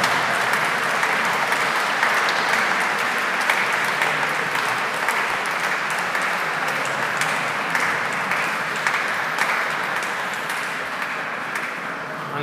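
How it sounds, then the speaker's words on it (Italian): Sustained, dense applause from a concert audience greets the Orchestra Classica di Alessandria as the musicians take their places at a guitar competition, a steady roar of clapping that continues unbroken throughout. "Ancora ravviviamo l'applauso per tutti questi musicisti."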